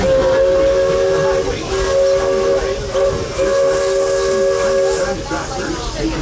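A Walt Disney World Magic Kingdom steam train sounds its whistle in long sustained blasts with steady steam hiss underneath, loud and close, with faint crowd murmur in the background.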